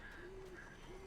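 Birds in the video game Alan Wake, faint repeated cooing or calling notes in a short, quiet game ambience.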